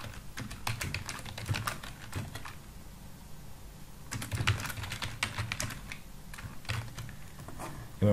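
Keys on a computer keyboard clack as Bangla text is entered, with bursts of rapid, close taps separated by brief pauses, steady and moderately quiet throughout.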